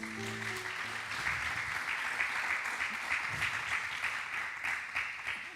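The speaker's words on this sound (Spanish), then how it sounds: "¿Qué tal si le da un aplauso a Dios?" Church congregation applause, a steady, moderately loud wash of many hands clapping together, with a brief musical tone fading out at the start.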